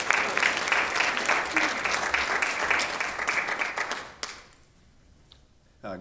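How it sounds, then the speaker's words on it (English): Audience at a business overview presentation applauding for Matt, dense sustained clapping that fades out after about four seconds, leaving near silence before a voice begins. "So big round of applause for Matt."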